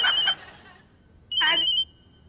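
A telephone rings in two bright, shrill bursts separated by a short pause, sounding close and clear over a quiet room.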